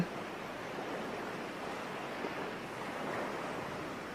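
Steady broadband wash of ocean waves rolling onto a beach, a continuous soft roar with gentle swells and no distinct breaks, moderately distant and alone without voices.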